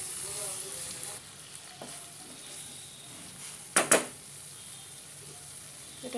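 Fried jackfruit is stirred with spice masala in a pan for a Bengali jackfruit biryani, giving a soft steady sizzle with faint scraping and two brief louder clatters of the spoon midway.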